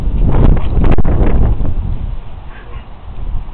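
Strong gusts of outdoor wind buffet the microphone at a party, a loud steady rumbling roar that eases slightly midway, with no speech.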